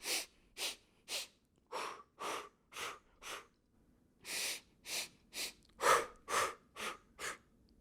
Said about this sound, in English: 3 breaths in your nose and 4 breaths out your mouth.